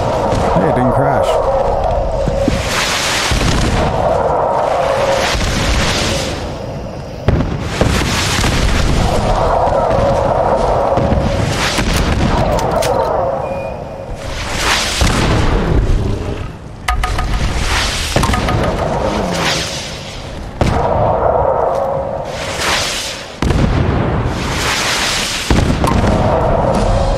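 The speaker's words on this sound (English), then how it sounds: "target-seeking missile launcher is actually a really cool weapon because you could shoot around corners" Target-seeking missile launcher blasts in Fallout 4 VR land as repeated heavy booms and explosions in bursts, loud and close, with voices talking between and over the impacts.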